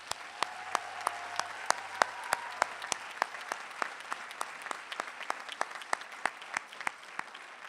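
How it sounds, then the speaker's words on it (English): Commencement crowd at EMU applauds to thank family, friends and supporters, a broad, even wash of many hands clapping in a large space, with sharp individual claps standing out throughout. "how about a round of applause to thank your wonderful supporting cast, family, friends, and supporters"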